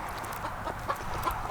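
Chickens on a farm cluck steadily nearby, with short overlapping clucks and soft chatter under a faint background hum.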